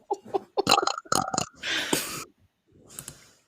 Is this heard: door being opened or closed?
no